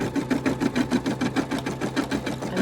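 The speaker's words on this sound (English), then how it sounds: "all you do is press start, and it will start stitching" A Brother NV180 embroidery machine stitches a badge design, a fast, steady mechanical whirring with an even rhythmic clatter of about six stitches per second, close and loud with no voices.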